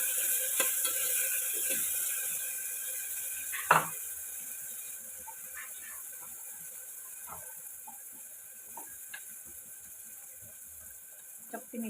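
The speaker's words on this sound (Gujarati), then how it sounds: "હવે ડુંગળીને આપણે બરાબર કૂક થવા દઈશું।" Sliced onions cook in a pan for spicy rajma chawal, giving a low, steady sizzle with occasional stirring scrapes and one louder clatter, all fairly quiet and close.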